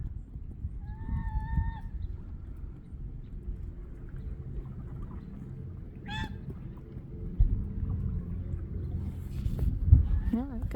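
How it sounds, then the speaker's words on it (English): A goose honks outdoors on a sunny morning, with a few nasal calls early on and another brief honk later, set against a low background murmur. "here comes a goose"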